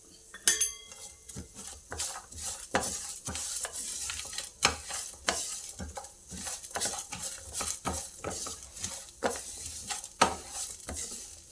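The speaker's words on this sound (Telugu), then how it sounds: "ఇవన్నీ ఇట్లా ఫ్రై అయినాయి." Garlic cloves frying in a pan and stirred with a utensil, with a constant close sizzle broken by repeated sharp scrapes and clinks against the metal at an uneven rhythm.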